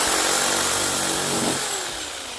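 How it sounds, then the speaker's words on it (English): A Sawzall reciprocating saw cuts off a bolt on a Matador car's exhaust work, giving a loud, steady, close buzzing rasp that fades slightly toward the end. "So I'm just going to cut this off with the Sawzall now"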